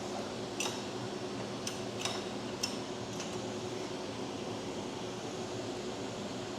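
Front wheel of a Honda Valkyrie motorcycle, raised off the ground, spins freely and gives off faint, irregular ticking and light metallic clicks over a steady low hum, with no voices.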